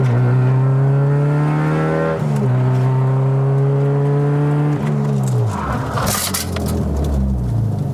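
A car with no ABS revs and accelerates hard through rising, stepping gear-like engine tones, then the pitch drops sharply as it brakes toward the end, with a brief tire-and-brake noise burst close by.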